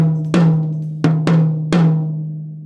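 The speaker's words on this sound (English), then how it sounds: "I like to tune my toms quite high, and you'll hear that. So this is our high tom," A high tom, tuned high and without muffling, is struck four times in an uneven pattern, each hit ringing out with a sustained pitched tone, close and alone.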